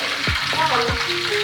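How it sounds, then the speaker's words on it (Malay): Hot water poured into a sizzling pan of cooking chicken, a loud hiss and bubbling sizzle throughout, with a couple of short thumps and utensil knocks in the brief stretch. "Dia letak air panas."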